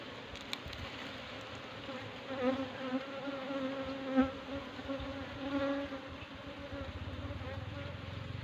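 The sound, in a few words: honey bees buzzing at a hive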